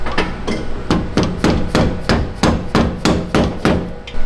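A hammer drives a flathead screwdriver to knock bent flush clips off the front end of a 250,000-mile Toyota Tacoma: about ten loud, evenly spaced metallic blows, close up and alone.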